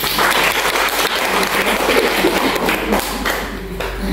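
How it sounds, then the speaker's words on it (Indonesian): A church congregation claps together during a Thursday worship service, a dense, steady patter of many hands with a few heavier thuds. It holds close and loud for about four seconds before thinning slightly at the end. "Tepuk tangan begitu."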